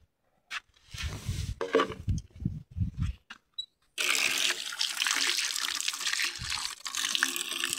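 Water is poured over a stone outdoors in a Nepali village, a steady close splashing rush that starts abruptly midway and runs continuously, following a stretch of low knocks and handling clatter.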